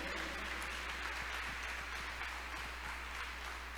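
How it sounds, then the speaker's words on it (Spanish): A church congregation claps in praise, a soft, even wash of applause heard from a distance with a low steady hum underneath and no talking. "Dele aplauso al Señor si usted lo cree."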